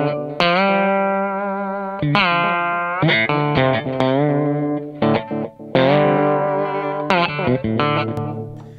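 Slide guitar run through an analog repeat echo effect for a Ry Cooder style tone, sustained gliding notes with trailing echoes, loud and clear with no talking.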